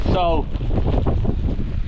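Strong gusting storm wind with driving rain at Scales Tarn in the Lake District, a close, loud blustery roar buffeting the microphone for the whole moment while someone briefly speaks at the start.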